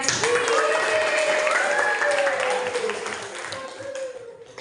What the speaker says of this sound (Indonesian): kasih tepuk tangan untuk Chandra.